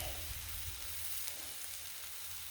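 Pork chops on a griddle give a continuous, faint hissing sizzle, steady and close with no voices over it.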